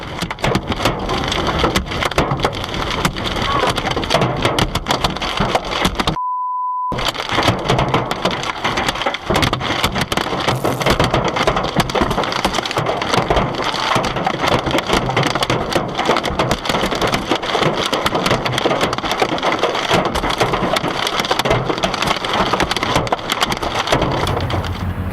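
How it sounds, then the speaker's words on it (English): Hailstones pelt a car in a dense, relentless clatter of sharp hard impacts, loud and close, continuing without pause apart from one brief cut to silence. "Each hailstone is a hit not only to the car,"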